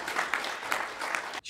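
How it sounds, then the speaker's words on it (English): Brief burst of dense applause from an audience at a CHAP lecture event, many hands clapping steadily for little more than a second before cutting off abruptly. "Let's give a round of applause and 20 more years of CHAP"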